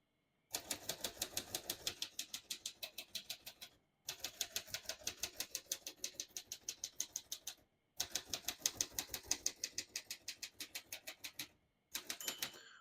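Rhythmic clacking of keys on a 1929 Royal Companion portable typewriter in four runs of quick, even strokes with short pauses between, close and clear with no talking.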